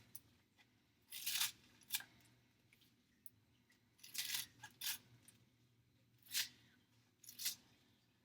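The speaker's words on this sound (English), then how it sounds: "I like to snip my pandan leaves into smaller pieces." Scissors snip pandan leaves into small pieces, producing faint, close, crisp cuts that come in short irregular clusters with quiet gaps between them.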